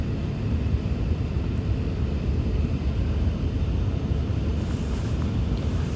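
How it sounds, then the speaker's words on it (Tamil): An Emirates Airbus A380 airliner taking off on a Dubai to Kuala Lumpur flight, a heavy, continuous engine roar and low rumble heard steadily throughout, broad and loud. "இந்த ஃப்ளைட்டும் ரொம்ப லேட்டாக தான் டேக் ஆஃப் ஆகுது."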